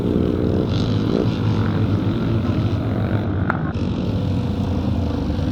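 A 600cc JAP Special classic scramble motorcycle roars steadily at a Kendal classic revival scramble, a loud, continuous, rough engine drone that holds near and constant throughout.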